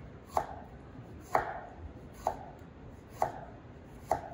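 A knife slices bellflower root into thin 0.2 cm pieces on a cutting board, five crisp, evenly spaced chops landing about once a second against a quiet background.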